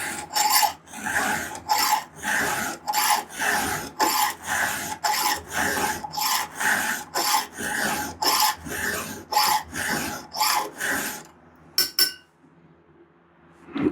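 Steady, rhythmic rasping strokes of a hand file sharpening a Stihl chainsaw chain, about a dozen even passes close up with short gaps, ending in a few quick strokes and a clink.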